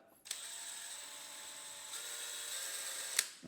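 A DEWALT DCD996 cordless drill drives a screw with a steady high whirring motor for about three seconds, a sharp click near the end, then stops; close and fairly quiet, with no talking.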